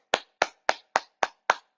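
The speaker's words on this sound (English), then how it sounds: "Nice clear clapping sound" Six crisp, evenly spaced hand claps ring out close and loud in quiet surroundings, each a sharp slap with a short decay, used to clear energy in a movement practice.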